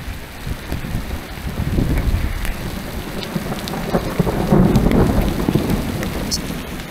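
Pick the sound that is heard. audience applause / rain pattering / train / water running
rain pattering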